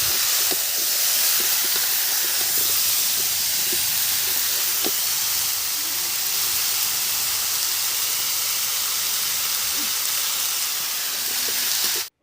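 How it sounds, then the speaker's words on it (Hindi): Bay leaves, cumin and panch phoron crackle in hot oil while cooking pumpkin. A steady, close sizzling hiss carries faint scattered pops and runs alone until it cuts off abruptly. "तेज़ पत्ते रखे, 2 चुटकी जीरा, 2 चुटकी 2 तो पचफोरन रखे और उन सभी को चटकने दिए।"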